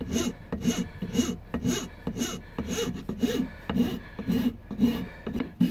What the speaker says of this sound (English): we'll take the flat rasp as well and round the edges up